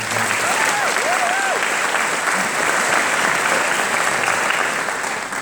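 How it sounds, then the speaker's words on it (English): Steady, dense applause from an audience honoring the criminal justice faculty at an ECU student speech event, loud and even throughout with a few brief voices rising over it early on. "let's give them all a round of applause"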